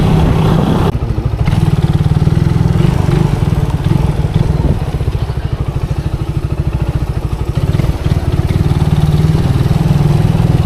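Motorcycle engines run loud and close on a trip in Mindanao, with a continuous throbbing, slightly uneven idle that holds for about ten seconds with no talk over it.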